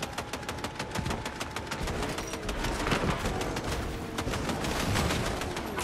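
Rapid game gunfire from a Fortnite Battle Royale duo match, dense repeated shots crackling steadily throughout with no clear pause.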